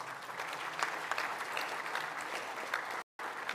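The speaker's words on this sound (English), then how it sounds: "give a big round of applause to the entire team." An audience at the CREDAI NATCON 2022 conference in Abu Dhabi applauds the entire team with continuous dense clapping, moderately loud, broken by a brief gap near the end.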